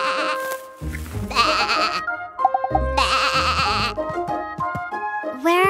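A cartoon sheep bleats in several loud, wavering cries separated by short pauses, close and clear, with bright tones between the calls.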